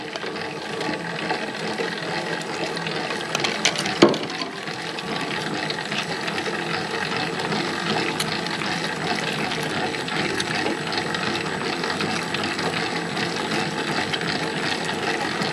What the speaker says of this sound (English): Mix up some more water in now.